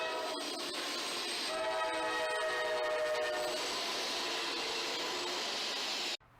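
A Norfolk Southern intermodal freight train rolls past close by on the Pittsburgh Line with a continuous loud rumble and rail clatter, its horn tones sounding partway through, before the sound cuts off.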